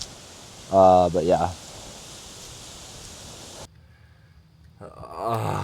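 Outdoors near a river, wind and rain make a steady broadband hiss. Brief voices break in at the start and the end, and the noise drops noticeably quieter partway through.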